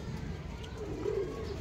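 A pigeon gives a short, low, throaty coo among the domestic birds kept for flying. It is soft and close, set against a steady low background hum.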